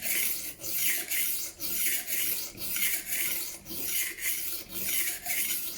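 Knife blade drawn across a Work Sharp rolling knife sharpener, a faint, smooth rasping stroke repeated about seven times in an even back-and-forth rhythm.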